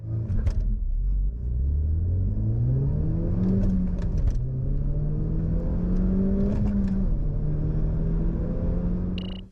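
A 2018 Renault Megane R.S. accelerates hard from a standing start, its engine note climbing through rising revs, dipping at each gear change and pulling up again, loud and close with no talk.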